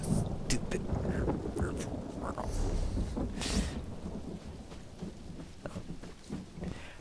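Rain and thunder from a thunderstorm in The Elder Scrolls Online form a dense, muffled wash at a low level. Scattered crackles and low rumbles sit under the rain, and bits of voice may be present.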